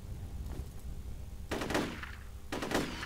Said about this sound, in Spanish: Si le disparo esa válvula.